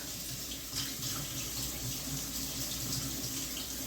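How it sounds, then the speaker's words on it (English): Water runs steadily from a kitchen tap while food is rinsed in the sink, a continuous close splashing hiss with no voices. "So we're gonna rinse this off"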